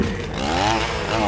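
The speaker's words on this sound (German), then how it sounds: "Nimm die Kettensäge." Chainsaw buzzing in an animated cartoon zombie scene, a loud continuous rasping whine that rises in pitch briefly, lasting the whole short moment.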